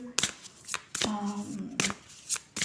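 Oracle cards being shuffled and drawn from a deck, heard as several sharp riffling bursts with brief pauses between them, close and fairly loud, with a voice speaking briefly among them.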